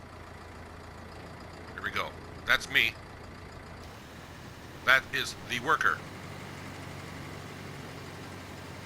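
A tractor engine idles in Farming Simulator 19 as a low, steady hum running the whole time, with someone speaking in short bursts over it.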